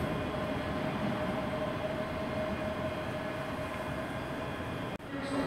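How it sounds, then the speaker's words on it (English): A ScotRail train from Edinburgh Waverley arriving at platform 7 of Glasgow Queen Street station, a continuous low rumble filling the station at steady loudness, with a brief clunk near the end. "coming in now, we have a terminating ScotRail service, slightly delayed, coming in from Edinburgh Waverley, heading in platform 7"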